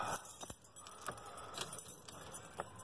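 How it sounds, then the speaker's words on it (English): Car keys jangle close up as they are fitted into a car's ignition, a few bright metallic rattles and clinks in quick succession inside a quiet vehicle cabin. "we're gonna go get the keys up in the ignition"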